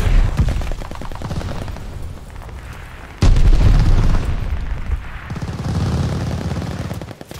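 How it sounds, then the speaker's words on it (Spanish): Glide bomb explosions in the video game Call of Duty Vanguard: heavy booms and rattling gunfire, with one sudden loud blast a few seconds in, followed by sustained rumbling battle noise and no talking. "¡Mandando una bomba planeadora!"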